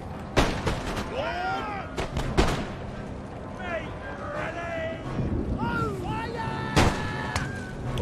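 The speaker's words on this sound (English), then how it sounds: "now they just all seem to be firing" Musket volleys in the Empire: Total War video game, with sharp gunfire cracks in several separate bursts over a continuous battle din, while someone talks over the fighting.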